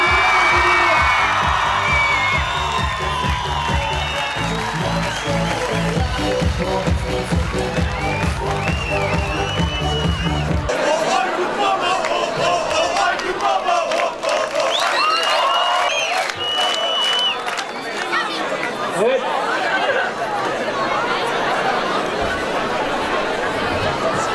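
A large university crowd cheers, whoops and applauds a comedy performer coming on stage, a loud sustained roar with chatter and shouts that stays dense for the whole stretch.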